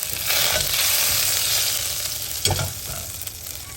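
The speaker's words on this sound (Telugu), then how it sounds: "ఇది సాస్ కోసం ప్యాన్ పెట్టుకున్నాం. Alfredo sauce. బటర్ వేస్తాము." Butter sizzles in a pan at the start of an Alfredo sauce, a steady close frying hiss with a brief clatter of stirring partway through, no voices.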